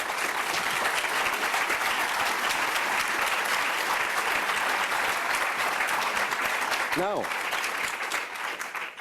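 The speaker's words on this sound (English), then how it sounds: "after this applause that I thank" Sustained audience applause fills a lecture hall after remarks about first-generation university students in Chile, steady and dense throughout, with a man briefly starting to speak over it near the end.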